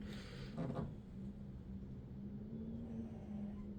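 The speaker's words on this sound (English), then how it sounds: "the wind is knocking around my house right now" Wind buffets the outside of a house, heard from indoors as a low, steady rumble with a brief stronger gust near the start, faint and distant.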